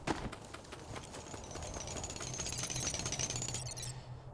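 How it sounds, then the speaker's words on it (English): Faint, regular clinking digging at an abandoned mining site in the sci-fi game Ovis Loop, a steady distant rhythm of repeated strikes over a low ambient hum, with a thin tone rising in the background. "You find an abandoned mining site and can hear faint digging sounds in the distance"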